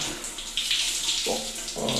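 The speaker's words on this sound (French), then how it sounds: "Là je prends ma douche et tout." Shower water running steadily at an outdoor campsite shower along a Gaspésie cycling tour, a continuous hiss with slight shifts in flow and a couple of low bumps, no talk.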